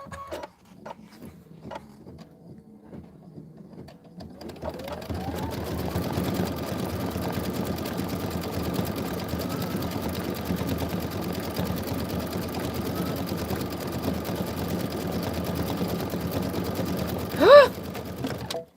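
Kimberbell embroidery machine running a decorative stitching step, a steady close mechanical whir and rapid needle chatter starting after a few quiet seconds of faint handling, with a brief louder clack near the end.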